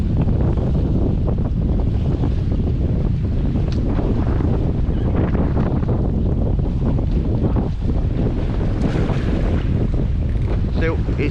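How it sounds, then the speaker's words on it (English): Strong, steady coastal wind buffets the microphone while boat fishing at Hill Head on the south coast near Southampton. It is a loud, continuous rumbling roar, with faint water movement underneath. "come on wind, hurry up and die down, will you?"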